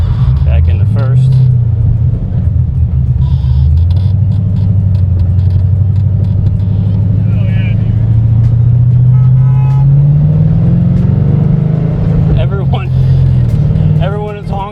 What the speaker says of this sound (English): Everyone is honking and stopping to take videos of this car already